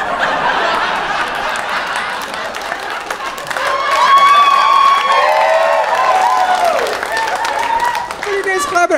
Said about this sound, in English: What are you guys clapping at?